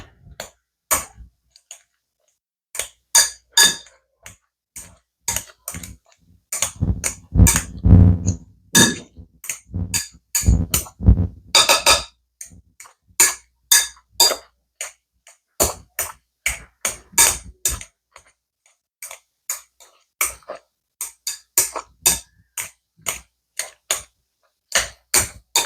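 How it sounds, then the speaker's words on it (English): A potato masher works potatoes in a pot, giving repeated metallic clinks and soft squelching knocks in uneven bursts, with a denser stretch of mashing midway, close and fairly clear. "And then mash that in to incorporate it."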